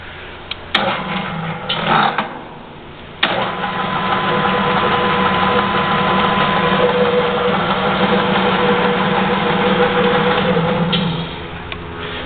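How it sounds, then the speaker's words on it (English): An ENCO 13 x 40 bench lathe runs in gear with a steady mechanical hum and whine after a few clicks and a start-up thump, continuing evenly before easing off near the end. "So the machine's running okay."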